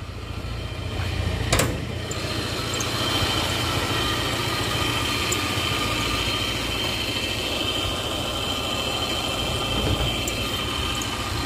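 The 1000 cc engine of a 1995 Suzuki Katana GX idles smoothly and steadily with a low, even hum, close by, with a brief knock or click near the start.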